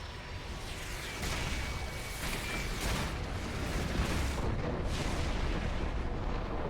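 Missiles exploding in the video game Hundred Line Last Defense Academy, a sustained loud rumbling barrage of blasts and booms that builds and continues steadily throughout, with no talk.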